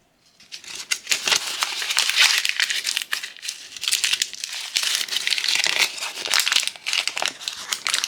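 Paper crinkles and crunches as it is pressed by hand into a resin coaster mold, a close, continuous rustling with sharper crackles and brief pauses.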